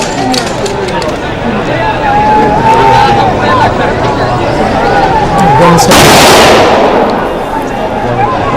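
Three-round rifle salute fired at a state funeral, with a sharp burst of loud gunfire near the end standing out over steady crowd murmur and voices throughout.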